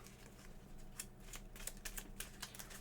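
Board game cards for Planet Unknown being shuffled by hand on a table, a run of quick, crisp riffling and flicking bursts, fairly quiet and close, with no talking.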